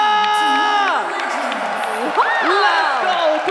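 A full-house crowd at the Tenis Indoor Senayan arena roars and whoops during a Mobile Legends esports final, a loud continuous wall of cheering with shrill rising shouts throughout.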